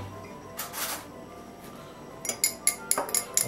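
A spoon stirs yeast and sugar into water in a glass tumbler, giving a burst of clinks and taps near the end after a few soft scrapes, close and fairly quiet.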